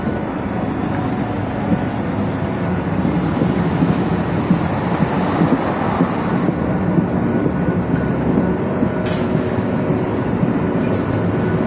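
Steady loud rumbling and rattling inside a moving train carriage, a continuous low roar with wind noise and occasional faint clunks.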